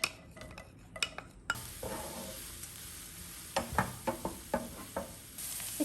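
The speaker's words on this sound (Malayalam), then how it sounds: "ഈ എണ്ണയിലേക്ക് ആദ്യം നമ്മൾ സബോള ഇട്ട് കൊടുക്കുന്നു" Chopped onions sauté in hot oil in a pan, with a soft continuous sizzle broken by a run of sharp spatula taps and scrapes against the pan. No voices are present.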